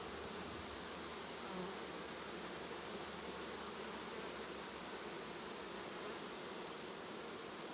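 Honey bees buzz en masse inside an opened hive during an inspection, a dense, steady drone that stays close and constant throughout, with no voices.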